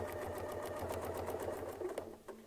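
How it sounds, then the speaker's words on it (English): A domestic sewing machine stitches along a Westalee Spin E Fex 14 ruler, giving a fast, even mechanical whir with a rapid needle-beat rhythm that slows and stops just before the end. Heard close and alone, without speech. "Then I'm going to sew down to the bottom."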